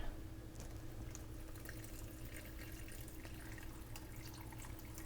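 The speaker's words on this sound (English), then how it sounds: "We're gonna go ahead and add the Pacific Northwest finest tap water." Tap water pours quietly and steadily into a cup of Nissin pumpkin spice instant noodles, a faint, continuous trickle with no talking.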